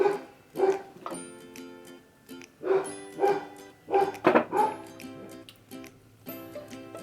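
A dog barks in repeated sharp bursts, mixed with higher yips and whimpering, close by with brief gaps between the outbursts.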